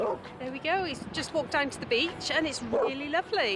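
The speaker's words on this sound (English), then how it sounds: "Sorry about the dog." An excited dog on a sandy beach yips, barks and whimpers in short bursts, closely mixed with continuous conversational talk throughout.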